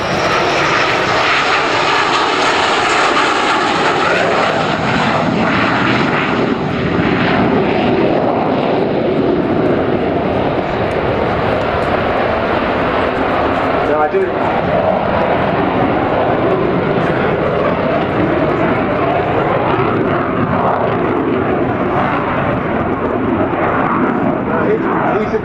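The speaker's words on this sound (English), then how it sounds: "here he comes in for his last pass, the Sea Vixen for 2016" A de Havilland Sea Vixen jet roaring past on its final low pass at the Old Warden Fly Navy Day airshow, a continuous loud engine rumble that swells and fades while people talk over it.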